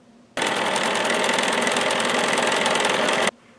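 A sewing machine sits on a vibration-absorbing mat and starts abruptly. Its steady, even whir runs for about three seconds at close range and then cuts off cleanly to quiet.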